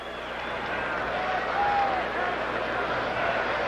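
Crowd of 16,000 at the Great Western Forum in Inglewood, California, during an NHL hockey game, a broad, steady roar of arena noise with faint cheering, rising slightly midway.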